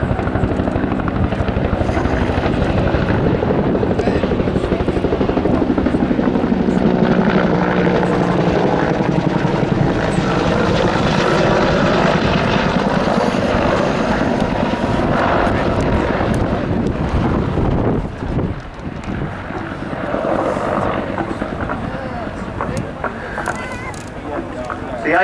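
Huey helicopter flying in a combat scenario display at Cosford airshow: a loud, sustained rotor thump and engine roar with wind buffeting the microphone, steady throughout, with commentary speech running underneath.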